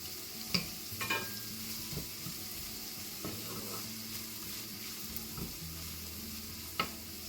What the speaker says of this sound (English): now you're gonna saute them